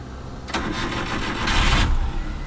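A vehicle nicknamed Orange and Lemon, with a faulty spark plug, cranks and catches, then settles into a loud, close, rough engine rumble for a couple of seconds with no talk.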